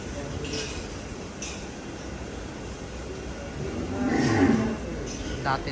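Cattle at a farm's Qurbani Eid collection of medium-size cows give a low moo that swells near the end, over steady barn noise and nearby talking.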